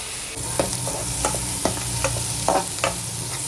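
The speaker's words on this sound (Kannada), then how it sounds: "ನೋಡಿ ಈರುಳ್ಳಿ ಚೆನ್ನಾಗಿ ಫ್ರೈ ಆಗ್ತಾ ಇದೆ" Onions frying in a pan with a little salt for a sprouted-gram saaru, a steady broadband sizzle with several sharp stirring scrapes and clacks of a spatula at irregular intervals, close and fairly loud, no voices.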